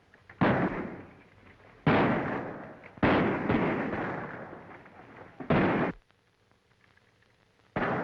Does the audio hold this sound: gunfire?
yes